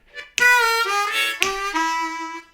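A blues lick is played on an A harmonica as a few sustained, reedy notes with bends and breathy attacks, close and clear, with no voice over it.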